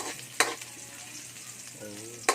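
Garlic and onion sauté in a pan for sarciado galunggong, giving a steady close sizzle with a couple of sharp utensil knocks and a brief voice near the end.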